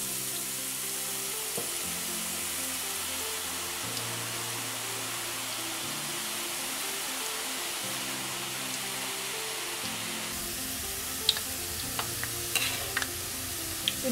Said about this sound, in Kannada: ಎಣ್ಣೆಲಿ ಕರಿಬೇಕು.